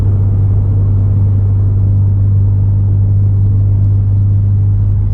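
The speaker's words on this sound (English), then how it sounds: "So some people would call it drone because it's kind of like hollow sound" A 2017 Ford Mustang with a Hypertech performance tuner cruises at low rpm, and its exhaust gives a loud, steady, hollow drone. The deep hum holds even with no voices.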